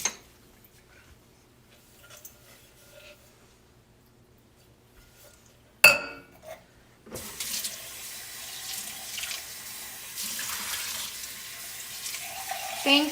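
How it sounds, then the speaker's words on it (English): Running tap water rinses Breville espresso machine parts at a sink, a brief clatter followed by a steady, fairly loud stream that continues to the end after a quiet start. "So don't mind me while I am rinsing this out."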